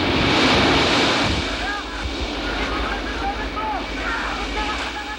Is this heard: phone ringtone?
no